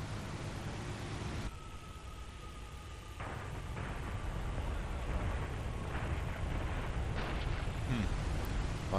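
In War Thunder, the defensive gunners of a descending bomber fire over a dense, continuous roar of engines and wind, with rapid bursts and rumbling blasts blending into the loud wash.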